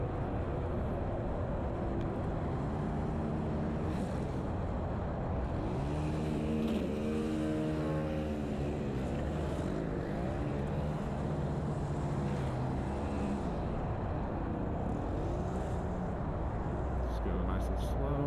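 Steady roar of cars passing in road traffic, heard from an electric scooter on a commute between Sterling and GMU, with a vehicle sweeping by near the middle and constant engine and tire noise throughout.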